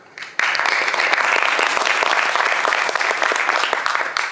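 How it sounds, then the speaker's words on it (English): A large audience at a school musical production bursts into loud, dense applause after a short quiet lead-in, sustained clapping that stays full and even throughout. "give yourself a big round of applause"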